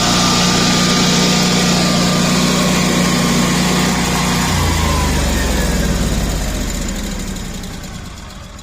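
A Generac whole house generator engine runs at a steady, loud, close drone with a strong low hum, then the pitch drops partway through and the sound gradually fades toward the end.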